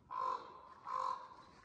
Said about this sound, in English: There's a raven.